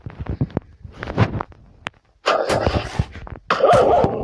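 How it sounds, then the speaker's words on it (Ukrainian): A dog growls and barks in short bursts in Minecraft, some harsh and noisy, with brief pauses between them, fairly close and loud. "Да что ты на меня рычишь, нафиг сумасшедший пес?"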